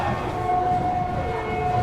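Padmavati Superfast express pulling into Kalahasti railway station, a steady broadband rail rumble with a sustained high tonal whine running through it, close and continuous with no talking.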